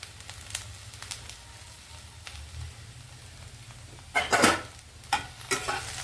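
Okra and tomato curry sizzles and simmers in a pan, a soft continuous crackle with a few sharper stirring scrapes and louder spatters near the end.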